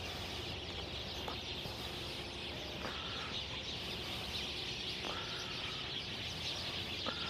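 Birds, including a chicken or rooster, call faintly at a distance with occasional short chirps and clucks over a steady, loud outdoor background noise.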